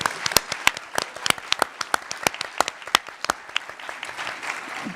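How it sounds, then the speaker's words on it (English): Audience applause at the Planet Forward Summit 2024 for a group of finalists, a steady patter of many hands with crisp individual claps standing out, moderately close and without talk over it. "So one more round of applause for everybody."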